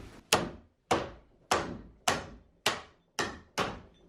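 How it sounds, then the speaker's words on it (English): Hammer striking a screwdriver to knock the last flighting off a screw turbine auger: seven sharp metallic knocks at a steady rhythm, each ringing briefly before decaying, close and alone with no talk. "I bet I could just use a screwdriver and a hammer and just take this last flouting off here"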